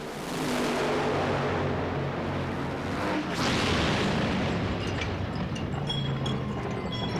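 Funny car engine explosion at the 1993 drag racing finals in Pomona, a loud sustained blast and roar with a sharp burst partway through, dense rumbling noise filling the whole stretch.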